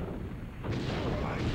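Grenade launcher fire in The Crow: City of Angels game, a muffled low boom swelling into a louder blast partway through, with a dull rumbling tail.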